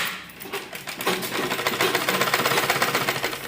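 A sewing machine stitches along buckram on an embroidered suit lining. Its rapid, even mechanical chatter speeds up after a slow start and runs close and steady, with no talking over it.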